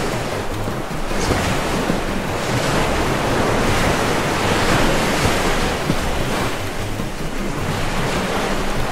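Rushing water in the Minecraft video game, a steady broadband surf-like wash that fills the whole stretch at constant loudness, with no voices over it.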